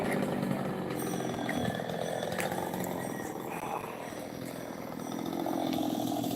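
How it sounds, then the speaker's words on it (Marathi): A cutter machine saws through a tree felled by a windstorm in a village, its motor droning continuously and fairly loud, with the pitch rising and falling slightly as it bites into the wood. "तर इकडे आता कटर मशीन घेऊन गावातील काही मंडळी झाड कापण्याचा प्रयत्न करत आहे"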